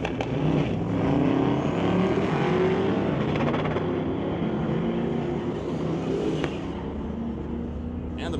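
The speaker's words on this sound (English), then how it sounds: "And the Malibu takes off towards the top end of the racetrack." A Malibu drag car launches at a street-legal drag night, its engine roaring loud as it pulls away down the strip. An announcer talks over the roar the whole time.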